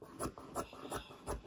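Fabric cut into a rectangle with scissors, four or five soft rhythmic snipping crunches close by in a quiet room.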